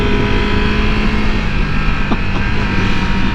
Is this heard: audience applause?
no